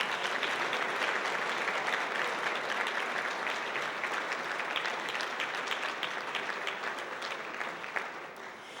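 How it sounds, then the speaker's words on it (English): A large audience gives sustained applause for outstanding scholars at a student success ceremony, continuous clapping heard evenly throughout and easing slightly near the end. "please join me in one last round of applause for all of these outstanding scholars."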